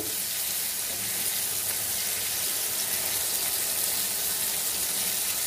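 Garlic and green chillies fry submerged in hot oil for a pickle, a dense, constant crackling sizzle that stays loud and unbroken throughout, with no talking.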